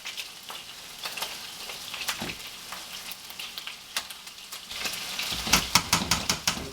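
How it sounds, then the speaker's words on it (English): Ground turkey sizzles steadily in a frying pan for a gluten-free spaghetti sauce, close and continuous, with scraping stirs from a utensil growing louder and more rhythmic toward the end. "we've got to get to our turkey because it's frying pretty good"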